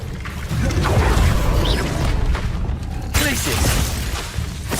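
Spell-combat effects from Hogwarts Legacy, including a disarming spell, come as a dense run of bursts, booms and shattering impacts, with a sharp break near the middle and a voice shouting over the action.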